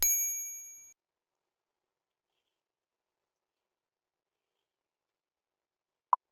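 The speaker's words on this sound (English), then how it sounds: "She's ringing the doorbell at 1:39 a.m." A Ring doorbell rung late at night: a single clear chime with a sustained tone fades out over about a second, followed by near silence and one short click at the end.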